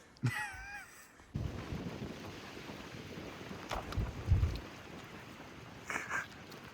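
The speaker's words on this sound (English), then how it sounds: "it's very windy right now" Strong wind by a lake buffets the microphone with a sustained low rumble and gusting roar, swelling and easing over several seconds after a brief quiet opening with a bird call.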